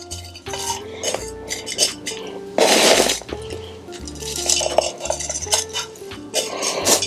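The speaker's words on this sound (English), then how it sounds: "now let's fill the pot" Potting mix is scooped into a plant pot while repotting houseplants. Close, irregular scraping, rustling and clattering knocks come in uneven bursts, with no talk.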